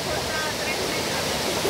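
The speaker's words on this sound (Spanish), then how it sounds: "El río está muy grande." A large, swollen river rushing during a cyclone, a steady broad roar of flowing water filling the short span, close and unbroken.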